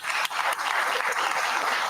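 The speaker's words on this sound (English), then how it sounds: "Let's give the folk that helped with this a round of applause" Applause breaks out at a county board of supervisors meeting, a short burst of dense clapping from the room, honoring staff who helped with a project.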